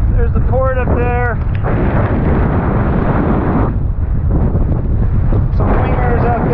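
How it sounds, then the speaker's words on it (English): Strong, gusty wind buffets the microphone during a wingfoiling downwind run along the Hollister Ranch coast, a constant loud roar that swells and dips, with a few brief bursts of speech near the start and end. "But yeah, it's real gusty."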